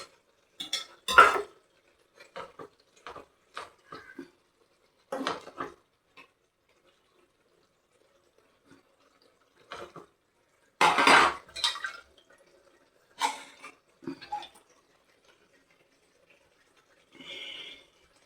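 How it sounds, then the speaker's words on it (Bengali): A sauce bowl is rinsed in a kitchen, producing scattered clinks and clatters of dishware in short separate bursts, with faint splashes of water between long quiet gaps. "আমি একটু সসের বাটিটা ধুয়ে জল দেব।"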